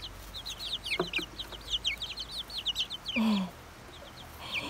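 A brood of chicks peeps loudly and continuously in rapid high chirps, with a hen clucking low close by; the sound is near and busy, with no talk.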